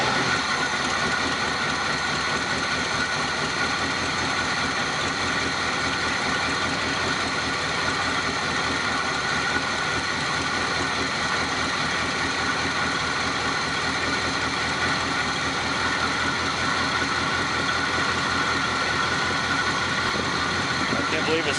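An old Chevy engine, long unused and with a readjusted choke, idles steadily after starting, a constant low rumble throughout while someone talks over it.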